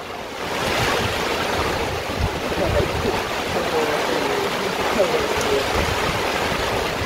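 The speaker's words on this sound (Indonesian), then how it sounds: "Angin dan hujan yang begitu deras." Heavy wind and driving rain sweep across an outdoor semi-futsal tournament match, a dense, steady roaring hiss filling the whole stretch, with faint voices buried underneath.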